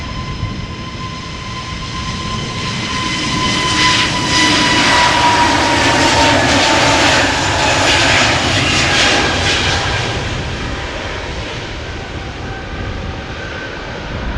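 A brand-new Airbus A320neo jet departs Amsterdam Schiphol, its engine roar loud and close, building to a peak midway with a steady tonal whine before slowly easing off.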